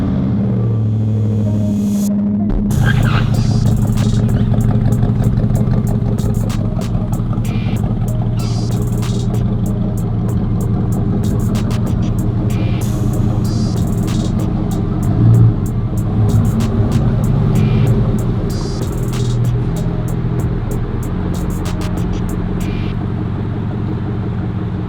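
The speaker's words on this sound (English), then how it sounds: "every single time I turn this car on, I get reminded how amazing the exhaust is on this" A McLaren SLR engine runs steadily close by, its loud exhaust giving a deep, continuous rumble at idle after a brief quieter opening, with slight swells in level and no talking.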